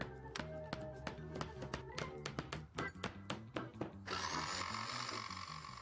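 Marine plywood panels are cut with a jigsaw, with a run of quick, uneven knocking and clattering strokes followed by a steadier buzzing whine near the end, close and moderately loud.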